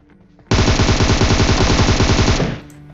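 Automatic gunfire in a video game shooter: one long, loud, rapid burst of shots lasting about two seconds after a quiet start, then tailing off.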